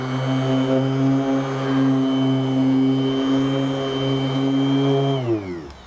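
Polishing machine spreading cart compound polish and sealer across a golf cart's acrylic windshield, a steady loud whine with a strong tonal hum that holds for several seconds, then drops in pitch and fades as it winds down.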